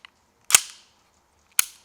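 A Sig Sauer Emperor Scorpion 1911 blowback replica pistol fires two loud, sharp shots about a second apart, each with the snap of the moving slide, with near silence around them.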